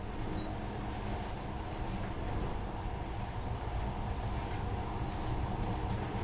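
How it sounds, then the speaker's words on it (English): A monorail train rides through Metro: Last Light Redux, a steady, dense rumble with rattling and rushing noise that stays loud and unchanging throughout, with no voices. "this monorail seems magic, doesn't it?"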